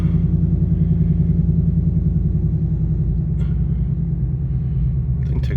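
A Ford Mustang Bullitt with a newly fitted exhaust idles with a steady, deep, loud rumble that holds for several seconds.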